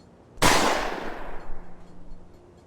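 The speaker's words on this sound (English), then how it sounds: "The gunshot echoed through the woods." A single rifle warning shot fired in woods: one sharp loud crack followed by a long fading echo rolling away over a couple of seconds.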